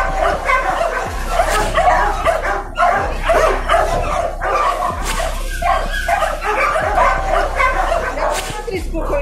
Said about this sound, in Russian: одинокая напуганная собака